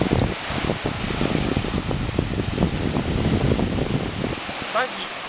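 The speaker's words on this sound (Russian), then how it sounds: "И здесь вот, пожалуйста, вы видите, значит, Тихий океан." Pacific Ocean surf at a coral island beach in Thailand, waves washing and breaking close by with strong wind buffeting the microphone throughout.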